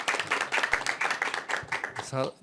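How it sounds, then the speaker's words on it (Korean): Around fifty people at an academic conference panel clap briefly as a Yonsei University professor is introduced, scattered applause that fades, and a voice speaks at the end. "박수 좀 부탁드립니다"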